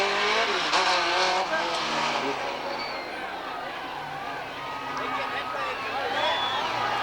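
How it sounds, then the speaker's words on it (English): Super stock race car spinning out at Redwood Empire Raceway in a 1985 main event, a steady roar of engines with tire noise running throughout under an announcer's continuous commentary, loud and close. "And then he gets clipped and spins out just as Shehay came back out onto the track."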